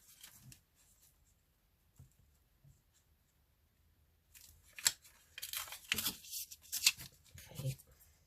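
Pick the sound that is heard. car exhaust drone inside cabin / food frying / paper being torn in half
paper being torn in half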